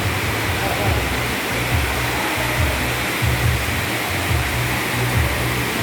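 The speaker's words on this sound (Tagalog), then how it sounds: "Ayan o, umulan." Heavy rain pours down outdoors at a venue in a dense, constant roaring hiss, loud and unbroken, with faint voices underneath.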